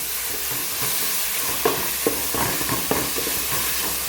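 Tomatoes with salt cook in a pan for a fish curry, a dense sizzle beneath several distinct scraping stir strokes, close and fairly loud with no one speaking.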